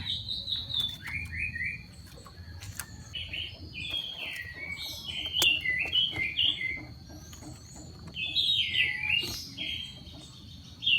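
Bright, bubbly chirps from an orange-headed thrush come in short repeated bursts, fairly close and clear over a low, steady background hum.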